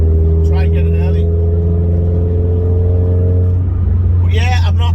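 A Renault Clio 200 track car engine holds a steady droning hum under a voice, then the pitch shifts at the gear changeover; the engine sound is loud and close throughout.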